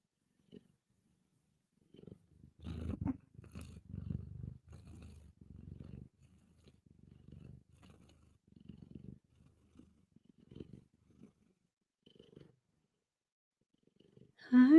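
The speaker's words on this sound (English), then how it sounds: "Let's get some purrs in the mic." Luna, a sleepy house cat, purrs in soft, close bursts into the mic, the rumbling coming in uneven stretches with quiet gaps between them.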